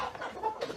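Quick bursts of chicken clucking, close and fairly quiet, in short uneven clucks over less than a second.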